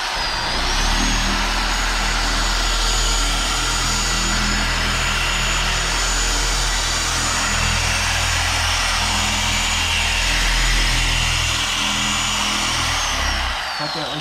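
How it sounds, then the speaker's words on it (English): A loud, steady whirring Lake Country UDOS rotary polisher in sanding mode runs continuously, droning at an even pitch with a constant buzzing hum throughout. "I'm dropping it down to sanding mode"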